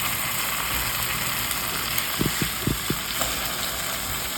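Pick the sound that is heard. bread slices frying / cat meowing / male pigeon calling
bread slices frying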